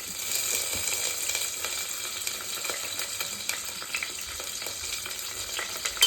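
Green chillies and curry leaves sizzle in hot oil as the tempering for Chennai-style sambar, a steady crackling fry with scattered pops running for several seconds.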